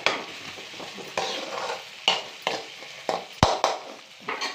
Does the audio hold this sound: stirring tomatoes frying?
yes